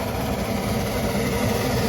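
A vintage engine idles at a steam rally, a steady, even low chug with a continuous hum and no pauses, close and moderately loud throughout.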